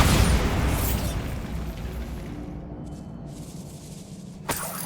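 A Bombarda spell explodes in Hogwarts Legacy with a loud blast at the start that decays into a long rumbling tail, followed near the end by a short, sharp pop.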